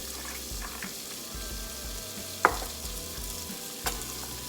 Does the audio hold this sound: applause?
no